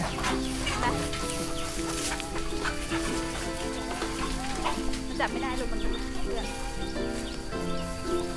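Chickens cluck and chatter amid a busy orchard farmyard, while a person calls to them with repeated rapid clucking imitations over constant background noise.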